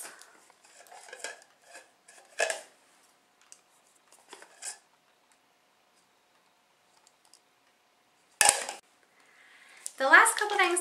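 Marble plates and bowls handled one by one, with scattered light clinks and hard taps separated by long silences, and a louder ringing knock near the end.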